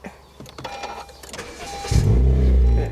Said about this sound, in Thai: พี่ก็เหยียบเบรกปุ๊บ แล้วพี่ก็กดปุ่มสตาร์ท